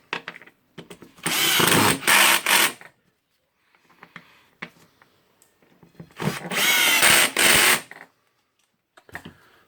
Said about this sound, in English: Just tighten the screws.